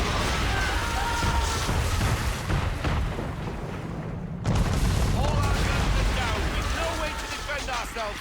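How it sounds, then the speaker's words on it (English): Heavy cannon fire from a man-of-war warship in Assassin's Creed III, a dense, continuous rumble of booming blasts with a short lull midway, loud and close, with shouting voices over the barrage. "We're under attack! Man of war's firing!"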